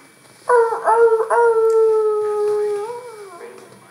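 A dog lets out one drawn-out howl, close and clear, wavering slightly in pitch before fading into a softer whine.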